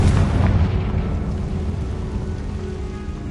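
A Confringo explosion spell in Hogwarts Legacy bursts as a loud, close blast with a heavy low rumble that rolls on and slowly fades, with no speech.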